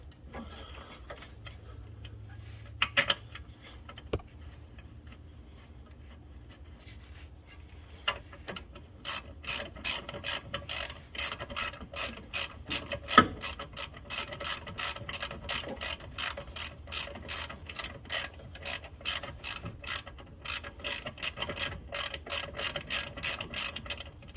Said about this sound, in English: Go ahead and run this bolt on this one.